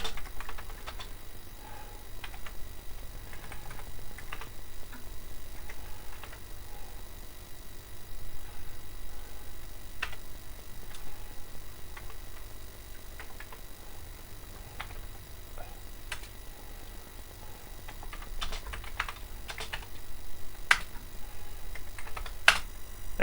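Keys clatter on a Commodore Plus 4 home computer keyboard, scattered soft clicks at first, then a denser burst of sharper taps near the end, over a steady low hum.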